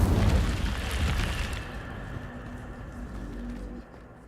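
An Incendio fire spell erupts in Hogwarts Legacy, a loud whooshing blast at the outset that fades into a roaring, crackling burn and steadily dies down, with no talking.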